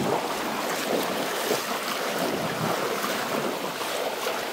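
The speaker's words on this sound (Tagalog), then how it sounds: "malakas yung tulak ng tubig sa akin pag sinasalubong mo to" Loud, steady rush of fast-flowing floodwater in a creek during Tropical Storm Kristine, a continuous churning roar with wind-like noise and no pauses or voices.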